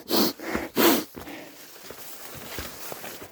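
A voice imitates an animal sniffing: two loud, breathy snorts close to the mic, then faint scattered rustles and soft sniffs.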